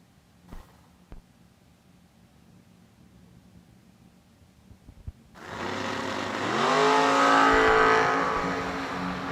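Super stock drag racing cars launch and accelerate down a drag strip. Quiet ambience and a few clicks give way to a loud, sustained engine roar that climbs in pitch as the cars pull away.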